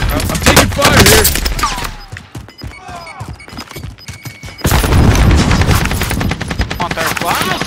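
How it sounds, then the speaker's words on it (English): Rapid gunfire bursts and explosive booms from a Call of Duty video game firefight, loud and dense at the start, dropping to scattered shots with a brief gap, then resuming as heavy continuous automatic fire. "I'm taking fire here."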